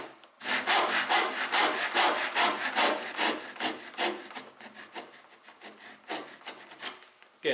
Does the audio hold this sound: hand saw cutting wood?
yes